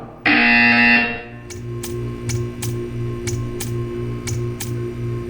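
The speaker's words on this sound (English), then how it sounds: "You will hear a buzzer." A buzzer in the puzzle game Portal 2 blares loudly for about a second, then a fast evenly spaced ticking takes over, each tick bright and sharp above a low steady hum.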